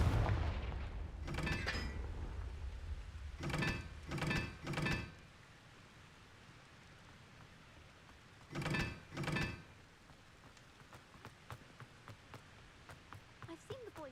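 Confringo blasting curse explosions in the Hogwarts Legacy video game: a heavy low boom followed by a cluster of three sharp bursts, then two more blasts a few seconds later, loud and close, over a quiet ambient background.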